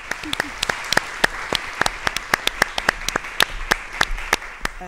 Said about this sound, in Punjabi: ਇੱਕ ਵਾਰ ਜ਼ੋਰਦਾਰ ਤਾਲੀਆਂ ਦੇ ਨਾਲ ਸਵਾਗਤ ਕਰਦੇ ਹਾਂ ਡਾਕਟਰ ਸੁਸ਼ਮਾ ਚਾਵਲਾ